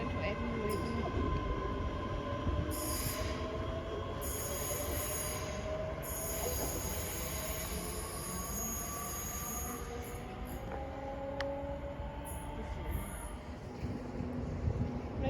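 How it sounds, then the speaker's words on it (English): A train pulling into Motherwell station, its wheels squealing in long, shrill, wavering tones over steady rumbling rail noise for the whole stretch, close and loud. "Right, so this is our train."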